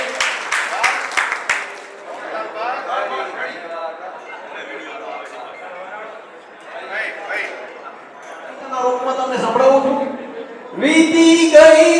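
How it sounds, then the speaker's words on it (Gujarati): Applause from an audience at a Kutch Prajapati community hall felicitation event, bursts of clapping swelling and fading over the 12 seconds under loud background chatter and music. "તાળીઓના ગડગડાટથી વધાવો."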